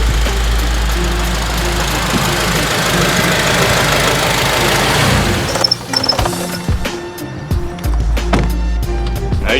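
Car engine idling with a steady low rumble and a slight knock, running continuously up close; partway through there are clunks and rattles before the idle settles back in, with no talk.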